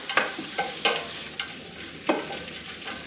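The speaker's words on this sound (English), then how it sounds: "The onion has been sauteing now for 5 minutes." Onions sauté in a pan for lecso, giving a steady soft sizzle broken by several sharp scraping clicks as they are stirred.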